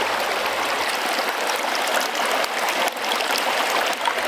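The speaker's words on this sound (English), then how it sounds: "never had a babbling brook beside this one" A babbling brook flows beside a maple sugar house, a steady, close, continuous rush and trickle of water with no voices and no pauses.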